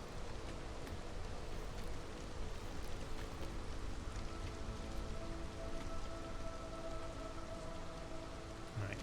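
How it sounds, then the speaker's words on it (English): Steady rain pouring in a storm in the video game Against the Storm, a constant dense patter of drops filling the scene, with no voices. "We got ourselves a storm."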